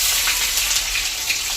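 Chopped onion tipped into hot oil where garlic has already browned, cooking for a Bhogi vegetable dish: a dense, steady, close sizzle that holds throughout with no voices.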